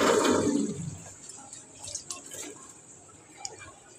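Water poured out of a container splashes loudly for a moment, then trails into faint drips and small splashes.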